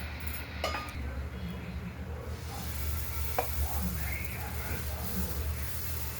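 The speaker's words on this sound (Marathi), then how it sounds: "तर हा डोसा पण त्या पद्धतीनेच भाजून घ्यायचा आहे" A crispy dosa made from a mixed dal and rice batter sizzles gently and steadily on a hot pan. A low hum sits underneath, with a few light clinks and scrapes.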